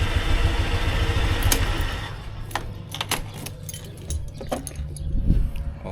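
A motorcycle engine idles steadily to warm up, a low continuous rumble with light metallic jingling and clicks over it, heard close with no talking.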